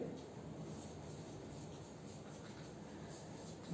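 Chalk or marker scratching steadily across a board in a lecture hall as a calculus solution is written out, a continuous soft rasping with no voice over it.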